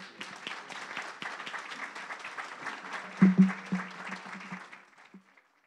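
Audience applause for departing panelists at a national judicial forum of Colombia's Consejo Superior de la Judicatura, moderate clapping from a hall crowd that swells briefly then fades out.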